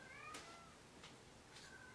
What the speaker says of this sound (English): if any of you can hear the cat in the background